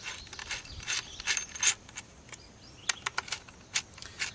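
An Allen wrench tightens bolts on a 52cc backpack multi brush cutter, making a series of faint metallic clicks, ratcheting ticks and small scrapes in irregular bursts, close by and quiet.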